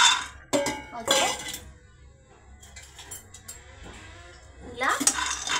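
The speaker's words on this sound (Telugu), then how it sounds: "ఇలా తిప్పుతూ ఉండాలి పల్లీలు, ఎందుకంటే అవి మాడిపోతాయి కదా" Peanuts roasting in a pan, stirred with a utensil that scrapes and clinks against the metal in short bursts at the start and end, with quieter rustling in between and no one speaking.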